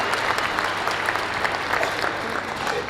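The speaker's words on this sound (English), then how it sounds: "Give our mayors another round of applause" A crowd at the Maynard Jackson 50th inauguration commemorative program gives Atlanta's mayors another round of applause, with steady, dense clapping throughout at moderate loudness and no voices standing out.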